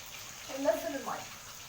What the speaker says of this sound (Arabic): وننزل الميه